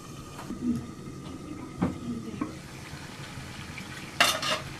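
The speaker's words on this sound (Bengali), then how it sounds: "মাংসের আমরা নাড়াচাড়া দিয়ে দিই" Chicken meat being stirred in a hot pan while frying in oil, with a few scattered scrapes and clinks of the utensil over a low sizzle, louder scraping near the end.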